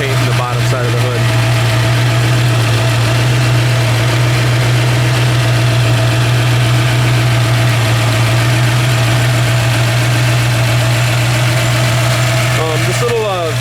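A 1967 Ford Mustang with a small 302 or 289 V8 and Mallory ignition idling close by, a loud steady low rumble that runs evenly throughout.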